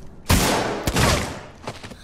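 Loud gunshots in Alien: Isolation: one big blast with a long, roaring decay, then a second sharp shot and a few fainter pops further off, with no voices.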